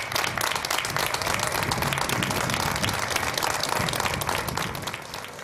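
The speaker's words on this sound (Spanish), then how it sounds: "concluyó con un emotivo aplauso" A crowd applauds warmly after a minute of silence held for victims at a public tribute, dense sustained clapping near and loud that eases off slightly toward the end.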